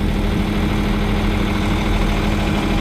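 A tractor's heavy diesel engine idles steadily at an auction with a deep, continuous rumble and slight vibration, loud and close throughout with no break.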